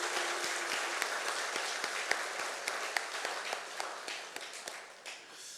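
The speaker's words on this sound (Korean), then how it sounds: "박수로 격려하겠습니다." A church congregation at a Sunday worship service claps for award-winning child guests, giving soft, scattered applause with individual claps standing out, fairly faint and tapering off toward the end.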